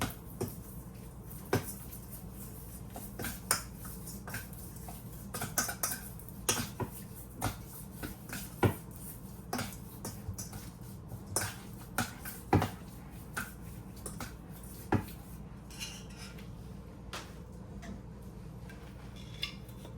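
A spoon stirs potato stew seasoned with salt in a pot, heard as faint, sparse clicks and taps against the pot's side at irregular intervals, with a quiet kitchen background.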